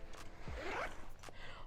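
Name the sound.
zipper of a small travel pouch pocket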